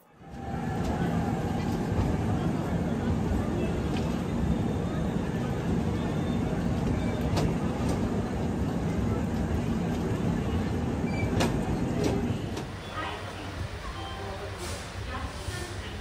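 The Kamrup Express pulls into Guwahati station with a loud, steady rumble and hiss that holds for most of the stretch, then eases to a quieter hum near the end.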